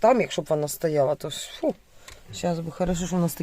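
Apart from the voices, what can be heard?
None of the usual background noises is heard.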